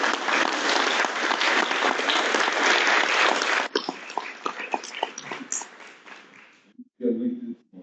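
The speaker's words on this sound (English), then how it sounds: "Where's that round of applause?" A presenter opening a talk on communication asks for applause, and the audience answers with loud, dense clapping that stops abruptly. Scattered claps and a few voices follow and die away, then a short closing burst comes in.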